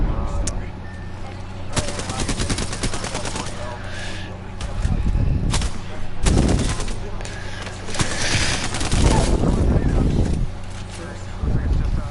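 Apex Legends gunfire crackles in rapid automatic bursts and single cracks, some near and loud, others farther off, mixed with thuds and impacts while players talk over it.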